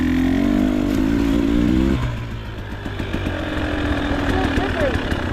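A KTM 300 XC or Beta 300 RR two-stroke dirt bike ridden through mud revs loud and close, then drops to a rougher, lower drone that chugs and sputters.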